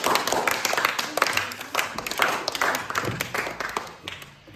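Children in a classroom clap for a girl named Vedika after a stick-moving puzzle, a dense, steady patter of many hands close by that lasts throughout and thins slightly toward the end.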